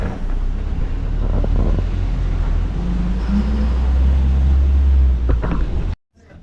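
Steady low engine rumble and road noise from inside a moving city bus on the way to Thane station, continuous and fairly loud with no talk, cutting off abruptly near the end.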